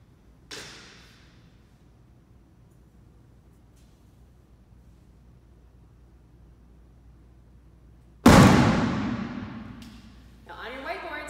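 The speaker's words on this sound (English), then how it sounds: "why was there that fiery explosion" A hydrogen-filled balloon ignites in a classroom demonstration, bursting with one loud, sharp fiery whoosh that decays over about two seconds, after a small pop earlier; a voice follows at the end.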